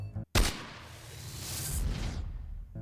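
A single sharp blast from a sci-fi blaster gun in a Roblox video game, followed by a sustained whooshing, hissing energy tail that fades out over a couple of seconds.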